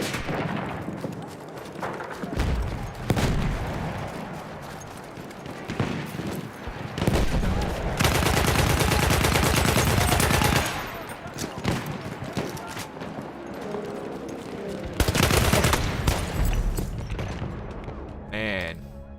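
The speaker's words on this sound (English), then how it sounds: "I swiped a machine gun over his body and he gave me one bullet and I died." Machine gun fire in the Battlefield 1 video game, loud bursts of sustained automatic shots in several long stretches with booming impacts, mixed with dense game noise.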